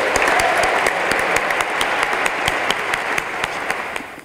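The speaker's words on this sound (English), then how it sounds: "Please give a rousing round of applause to Dr. Gushee" A room full of people clapping for keynote speaker Dr. Gushee at a church gathering, sustained and fairly loud, with some individual claps standing out sharply over the steady wash.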